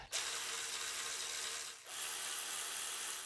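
A ratchet snugs down bolts on a Ford Explorer during spark plug replacement, giving two close, steady runs of fast clicking separated by a brief pause.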